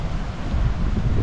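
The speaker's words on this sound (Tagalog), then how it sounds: "Malakas ang hangin." A strong, cold wind rushes and buffets the microphone outdoors, a loud, continuous low roar with no speech.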